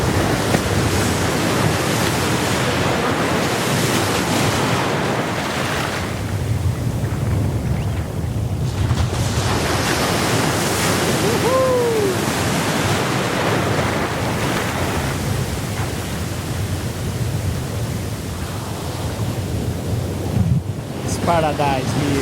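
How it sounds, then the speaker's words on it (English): Warm sea surf on a beach at Natal, Brazil, a continuous loud wash of breaking waves heavily mixed with wind buffeting the microphone, with faint voices in the background. "The sea's really warm. It's really nice. The wave, very, very good."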